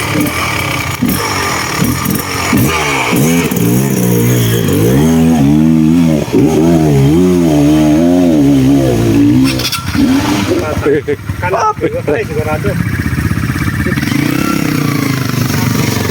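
A loud motorcycle engine revs up and down in repeated surges, close by, with voices and clatter mixed in, then settles into a rougher idle.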